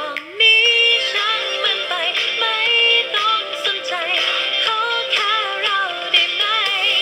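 Music plays through the small built-in speaker of a 1990s Long Time No See gadget, a steady, fairly loud stream of melodic tones with a busy, thin mid-range character and no talking.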